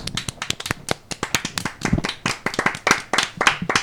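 A small group claps hands in quick, uneven bursts, close and fairly loud, with sharp individual slaps rather than a full crowd roar, lasting a few seconds.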